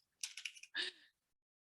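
Typing on a computer keyboard, one brief burst of a few quiet key taps followed by a single louder clack, then silence.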